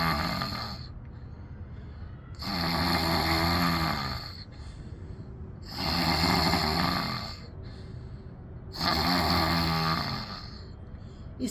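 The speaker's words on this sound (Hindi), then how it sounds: "जीवा को बाहर निकालना है और घर्षण पैदा करना है आपको, कंठ से लेकर के हार्ट तक।" A yoga breathing practice with the tongue stuck out, pushing air out through the throat to make a hoarse 'a' sound. Three long, rasping exhalations are spaced a few seconds apart, each followed by a quieter breath in, close and with no talking.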